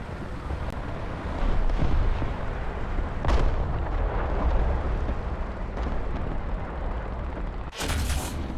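Tank cannon fire in War Thunder, heard as a few heavy booming shots over a dense rumbling battle background, with a sharp burst near the end.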